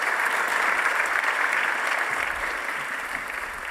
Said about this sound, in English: I want you to help me give our panel a massive round of applause.